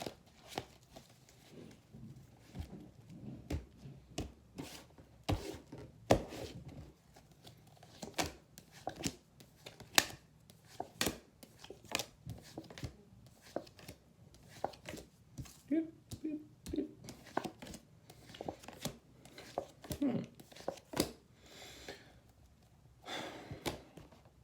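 Tarot cards riffle and tap in repeated quick shuffles, a soft papery patter of sharp clicks and slaps spread across the whole stretch, close and fairly quiet.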